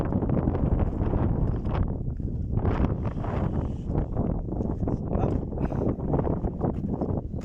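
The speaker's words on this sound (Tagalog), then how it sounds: "Nakarelax naman ang hangin dito." Steady, loud wind on a mountainside buffeting the microphone with rushing gusts that rise and fall throughout, no voices present.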